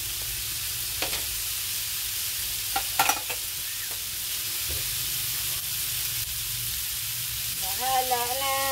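Tofu sizzles steadily in a hot pan while a utensil scrapes and stirs a few times. Near the end a voice briefly cuts in over the frying.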